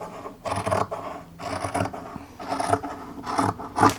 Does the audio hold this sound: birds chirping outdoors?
no